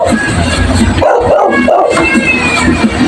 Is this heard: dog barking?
yes